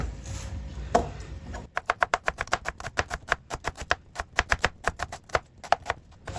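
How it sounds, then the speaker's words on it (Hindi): Onions being chopped on a cutting board, a quick steady run of crisp knife taps, close and clear, with a brief thud before the rhythm starts and no talk. "और चीज़ों की कटिंग करती हूँ। अभी यहाँ पे प्याज है"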